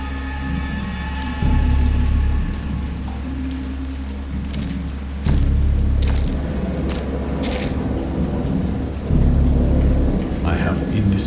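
Thunderstorm with rain in the video game Dagon: steady rainfall throughout, punctuated by three deep rolling thunder rumbles at regular intervals, loud and close.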